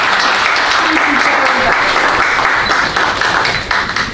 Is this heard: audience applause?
yes